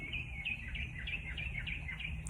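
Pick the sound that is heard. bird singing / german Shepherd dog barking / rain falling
bird singing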